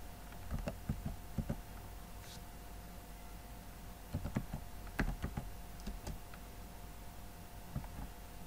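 A computer keyboard is typed on in scattered short bursts of crisp key clicks, fairly faint against a steady low background hum, while a network command is entered.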